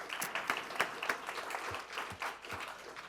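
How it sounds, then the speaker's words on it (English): Audience applause at a school board business meeting, fairly quiet and scattered, with irregular claps rising and falling over a few seconds. "I haven't even said anything about you, and they're still clapping"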